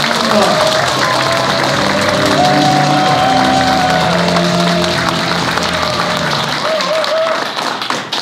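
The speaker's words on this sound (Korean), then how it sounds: "우리 박사님께도 큰 박수 부탁드리겠습니다" A crowd at a Korean political talk show event applauds a guest speaker: loud, continuous clapping and some cheering, with a voice over a loudspeaker and a sustained tone running underneath, tapering off near the end.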